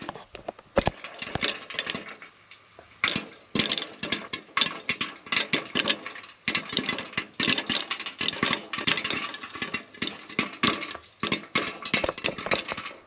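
Popcorn kernels popping in a covered pot, a dense irregular burst of sharp pops and cracks that comes in clusters, fairly close and alone without talking.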